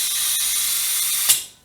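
A steady, loud hiss of Abbey Ultra gas charging a gas blowback gel blaster pistol, ending in a short sharp burst and then tapering off.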